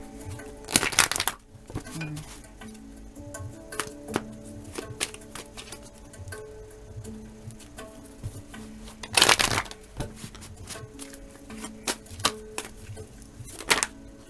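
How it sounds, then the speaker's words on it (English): Oracle cards being shuffled in several bursts of rapid riffling and flicking, with softer handling and a quiet voice in between. "I need to shuffle a little bit more."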